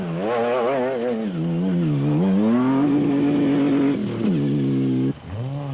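A Toyota Hilux SP rally car engine revs hard and loud, its pitch climbing and falling through repeated gear changes before cutting off sharply near the end.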